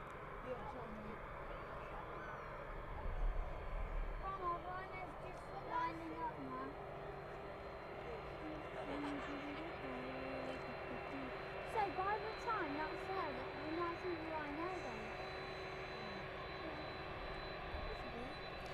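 A Boeing 767 landing on runway 27 at East Midlands Airport in the evening, a steady distant jet engine roar with a sustained drone and bird chirps around it, while people talk throughout.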